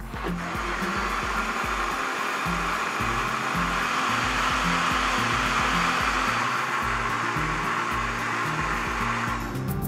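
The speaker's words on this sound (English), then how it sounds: "and blend it for 1 minute." An electric blender whirs steadily as it mixes borhani, a spiced yogurt drink, with water in its jug. The motor noise is loud and close, holding an even drone throughout with no talking.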